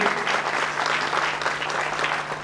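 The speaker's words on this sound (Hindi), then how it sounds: "तो जोरदार ताली करें" Audience at a ghazal and poetry gathering applauding the chief guest, lyricist Sameer Anjaan, with steady, dense clapping filling the hall, loud and continuous from start to finish.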